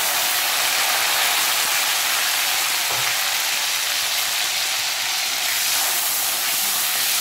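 Chopped tomatoes sizzle in a hot pan as they are added and stirred. A continuous close hiss of frying runs throughout, with a soft clink or stir near the middle and no one speaking.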